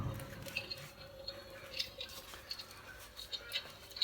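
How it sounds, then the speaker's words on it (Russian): A portable Real Flame electric fireplace plays its built-in crackling sound effect: faint, irregular clicks and soft patter over a steady low hiss, with no voices. "то есть вот вы слышите звук камина"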